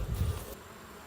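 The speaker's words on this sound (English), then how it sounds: "Bees are busy, and every colony looks just like this." Honey bees buzz around a hive in Alabama during a pre-winter inspection, a brief close hum that swells and then fades quickly.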